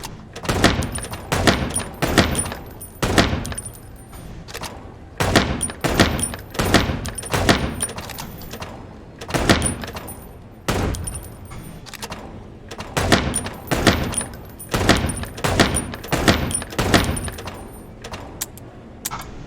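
Repeated revolver gunfire in the detective game Chicken Police, sharp close shots in irregular bursts with brief clinks between, continuing steadily without talk.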